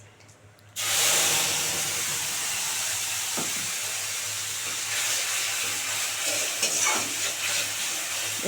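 Mustard paste dropped into hot oil in a wok with nigella seeds, a sudden loud burst of hissing sizzle after a quiet moment that then holds steady and strong, with occasional stirring scrapes, close and unvoiced.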